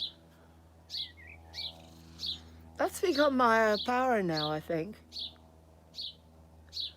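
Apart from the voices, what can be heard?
birds chirping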